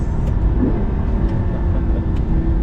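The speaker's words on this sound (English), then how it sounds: "It does make some good noises, doesn't it?" A loud, steady supercar engine roar with a low rumble throughout, running hard in a Forza video game.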